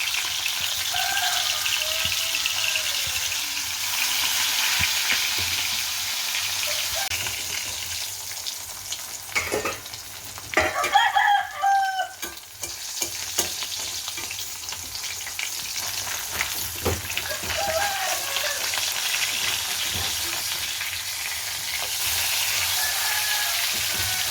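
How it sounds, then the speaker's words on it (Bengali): Marinated katla fish fries in hot oil, a strong continuous sizzle close by, with a burst of louder spattering and stirring midway before settling back into an even hiss. "তেলটা গরম হয়ে এলে ম্যারিনেট করে রাখা মাছগুলো একে একে দিয়ে দিতে হবে"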